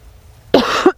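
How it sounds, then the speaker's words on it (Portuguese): A single harsh cough bursts out close and loud after near silence, ending with a short rasping catch. "Muito ruim fazer investigação assim tossindo."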